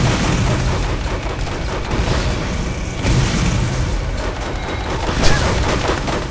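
Rocket explosions in Borderlands boom one after another beneath a dense wash of vehicle and combat noise. The blasts come in quick, rumbling succession, with one sharper burst standing out near the end.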